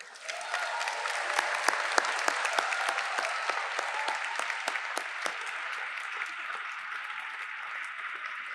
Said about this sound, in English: Please, one final round of applause for the MIDS graduates.